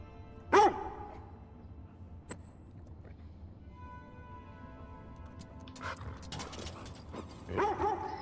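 Dog in The Last of Us Part II giving a sharp bark, then soft whimpers and a few faint yips spread across an otherwise quiet stretch, with a second bark near the end.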